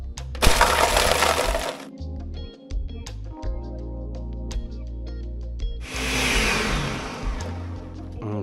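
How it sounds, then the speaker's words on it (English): A Ninja 72oz Professional blender crushes ice with strawberries in two loud bursts, harsh cracking and grinding at the start and again near the end, with a quieter motor whir and rattling chunks between. "I put it on number 2 to start crushing the ice, and it's strong enough that it can crush the ice and mix up everything"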